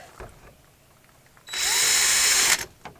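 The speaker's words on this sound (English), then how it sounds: "I'm just going to drill a couple holes in here." A power drill whirs loudly for about a second, drilling holes in a plastic shed, close by, after some quiet handling noises, then stops abruptly.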